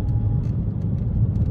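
A Ford Mondeo ST220 running without catalytic converters, with downpipes and a full catback exhaust, gives a steady low, dense engine rumble, close and continuous throughout.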